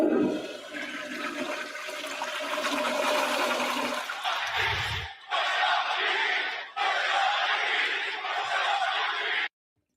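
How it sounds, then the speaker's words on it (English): A toilet flush sound effect plays as a loud, sustained rushing of water. It cuts out briefly twice, then stops abruptly just before the end, with no talking. "The toilet button wasn't done flushing over there."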